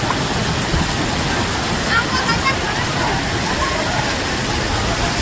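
Heavy monsoon rain in a Banaskantha village makes a loud, dense, unbroken roar outdoors, mixed with the rush of running water and steady from start to finish.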